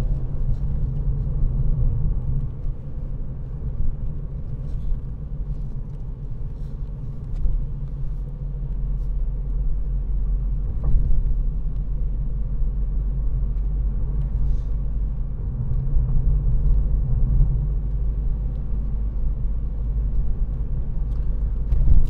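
A 2017 Volkswagen Scirocco 1.4 TSI BlueMotion Tech GT Black Edition three-door cruising on a road, heard from inside as a steady low rumble of engine and road noise with no talking.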